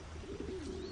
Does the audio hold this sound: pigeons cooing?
yes